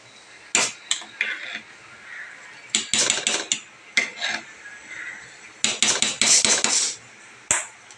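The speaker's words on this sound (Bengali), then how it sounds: "তো ভাতটাকে এখন একটু নাড়াচাড়া করে দেবো।" A spoon clanks and scrapes against a metal pot while boiling rice is stirred, in irregular bursts of loud clattering with quieter gaps between.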